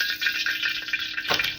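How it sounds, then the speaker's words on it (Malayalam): Mustard seeds crackle and pop in hot oil in a pan, a steady close sizzle broken by quick spluttering bursts and one louder flare near the end. "ആദ്യം തന്നെ എണ്ണ ഒഴിച്ചിട്ട് കടുക് പൊട്ടിക്കാം"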